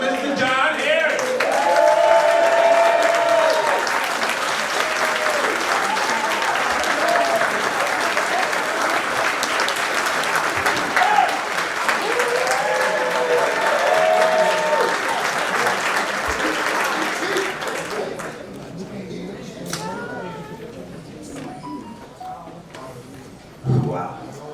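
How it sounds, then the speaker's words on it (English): Audience applause at an awards banquet: a sustained, dense round of clapping from a large crowd that runs for most of the stretch, then thins and fades toward the end, with faint voices mixed in. "let's give a great big round of applause for Mr. John Harris."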